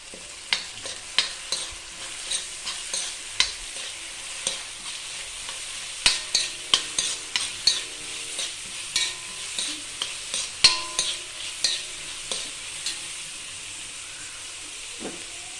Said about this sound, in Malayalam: ഉള്ളി, കറിവേപ്പിൻ്റെ ഇല ഇട്ടെടുത്ത് നന്നായി വഴറ്റിയെടുക്കാം